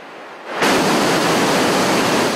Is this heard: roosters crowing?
no